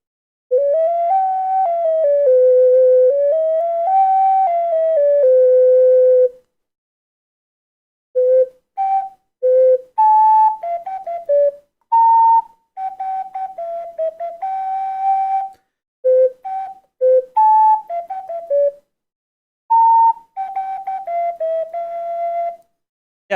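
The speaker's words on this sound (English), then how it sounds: "The sound of an ocarina sounds like this." A clear, pure-toned ocarina plays a simple melody: one sustained phrase first, then short broken notes and phrases separated by pauses, close and fairly loud with no talking.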